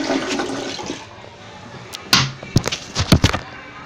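A 2016 Glacier Bay dual-flush toilet in an apartment flushes nearby, a loud rushing swirl of water that fades, followed by a few sharp knocks and splashy gurgles as the tank refills.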